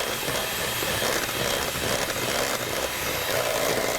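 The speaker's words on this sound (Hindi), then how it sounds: "मशीन को थोड़ा सा इस्तेमाल करूँगी ताकि वो इवनली मिक्स" An electric mixer blending biscuit batter in a bakery kitchen: a steady, loud whirring hiss with a rough, grainy texture, running continuously throughout with no voices over it.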